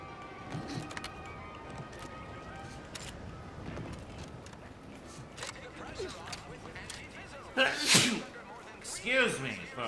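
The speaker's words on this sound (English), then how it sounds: "I cannot stop sneezing." A character in the video game The Outer Worlds 2 sneezes, a sharp loud burst near the end following quieter breathy noises, set against soft game ambience and scattered clicks.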